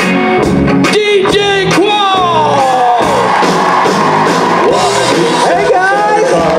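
Audience at a Creation Tour convention in Chicago cheers, whoops and shouts loudly for actor DJ Qualls as he is welcomed on stage, a dense continuous crowd roar with voices rising through it.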